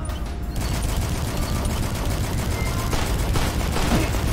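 Assault rifle fire in the retro shooter video game DUSK: a loud, unbroken stream of rapid shots that fills the whole stretch, dense and continuous from start to finish.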